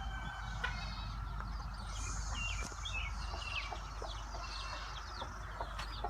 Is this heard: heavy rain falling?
no